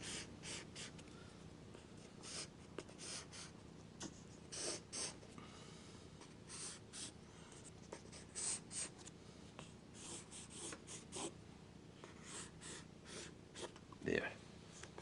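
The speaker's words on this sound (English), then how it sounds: "here I'm going to go up with my pencil and darken my" A pencil shades on paper in a quiet run of soft, scratchy strokes, some faster than others, with faint breathing audible nearby.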